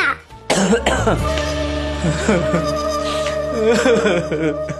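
A sharp cough or throat clearing near the start, followed by voiced talking with some background hum.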